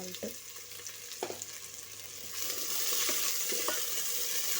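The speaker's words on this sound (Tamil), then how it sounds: "ஆனியன் வதங்கிறதுக்கு" Sliced onions with salt sauté in a pan for a mushroom biryani, a steady close sizzle broken by a few scraping stirs, with the frying growing louder toward the end.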